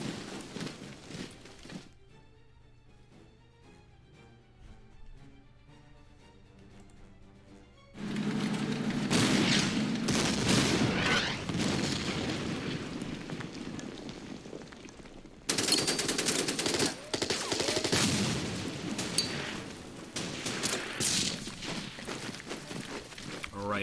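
Gunfire in the wartime strategy game Order of Battle: Endsieg erupts in loud bursts of shots and explosions after a quieter stretch, with someone talking over parts of it.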